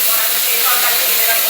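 Four pieces of fish frying in hot oil in a covered pan, a loud, steady hiss and sizzle of spattering oil close up, continuous without pause.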